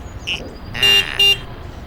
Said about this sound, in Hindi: इतना हॉर्न क्यों बजा रहा है वो भाई?